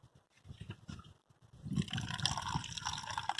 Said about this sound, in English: you can see it does have water coming out of it